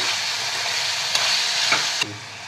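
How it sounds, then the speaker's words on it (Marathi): Bitter gourd sabzi being stir-fried in a pan gives a steady sizzling hiss, with a couple of soft stirring clicks and scrapes close by. "आता ही भाजी आपण 1 मिनिटभर आपण परतून घेऊया, म्हणजे फ्लेवर खूप चांगला उतरतो."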